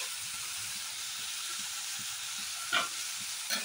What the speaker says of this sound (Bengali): দেখুন আমি আলু আর টমেটো পেঁয়াজ একসাথে ভাজছি।